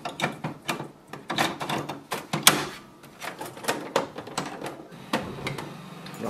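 A Canon Pixma TS3429 inkjet printer runs its mechanism after a black ink cartridge is fitted, a busy stretch of rapid clicks, ratcheting and whirring bursts at close range, with no talk.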